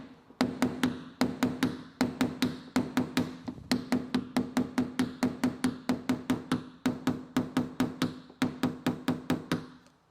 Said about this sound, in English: Now I know why you're using a heavy hammer.